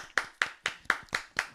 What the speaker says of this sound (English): Buck, everybody, let's clap for him